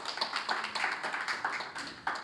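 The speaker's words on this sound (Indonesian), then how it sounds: "Saudara tepuk tangan buat Tuhan Yesus Kristus" A church congregation clapping for Jesus Christ during a sermon, soft scattered claps with uneven rhythm, fairly faint and brief.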